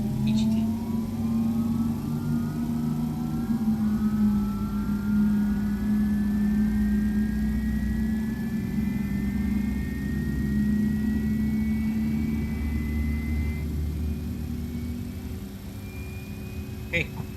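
MD-11F jet engine spooling up in X-Plane, a slowly rising turbine whine over a low, steady rumble that fades slightly toward the end.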